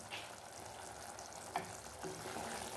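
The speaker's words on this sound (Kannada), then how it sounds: "ಆಮೇಲೆ ಒಂದು ಹಿಡಿಯಷ್ಟು ಕೊತ್ತಂಬರಿ ಸೊಪ್ಪನ್ನು ಉದುರಿಸಿ ಬೇಯಲಿಕ್ಕೆ ಬಿಡಿ" Chicken bhuna masala with a handful of coriander leaves and green chillies simmers in a pan, giving a faint, steady sizzle with a soft stirring scrape or two, quiet and close.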